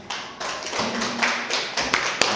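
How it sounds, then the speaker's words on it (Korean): A church congregation claps during Korean worship, a few loud, close hand claps that turn into a steady round of clapping with sharp individual hits. "우리 하나님께 영광의 박수 올려드리겠습니다"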